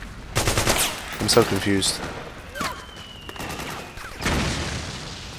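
Gunfire from a battlefield in the Metal Gear Solid 4 video game: repeated bursts of automatic weapon fire and scattered single shots, some close and loud, others farther off, with someone talking briefly over the shooting.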